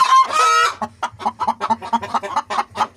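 Village chickens, including a hen that has just laid eggs and two roosters, give a loud drawn squawk followed by a run of close, rhythmic clucks.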